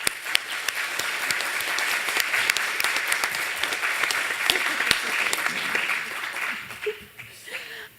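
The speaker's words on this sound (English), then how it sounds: "Please give our" An audience at a business leaders' conference gives a steady round of welcoming applause for a CEO panel, a dense wash of many hands clapping that tapers off in the final seconds.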